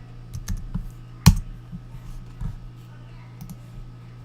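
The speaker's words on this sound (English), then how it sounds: "we'll type in Google Gravity" Quick, light key clicks from typing on a computer keyboard, with one sharper louder keystroke among a scattered run of soft taps, close and clear with no talking.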